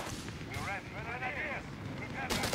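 An MG 42 machine gun fires in a Company of Heroes 3 battle as a dense, loud roar of gunfire and battle noise, with a shouting voice over it and a fresh loud burst at the end.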